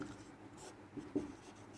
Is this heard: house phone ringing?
no